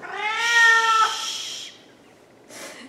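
A cat lets out a loud, drawn-out meow with strong harmonics lasting about a second, then a shorter faint cry follows near the end, in an indoor home setting.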